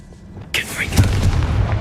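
A Confringo fire spell from Hogwarts Legacy goes off as a sudden broadband blast about halfway in, then rolls into a dense, rumbling crackle that sustains to the end. A voice may be present beneath the blast.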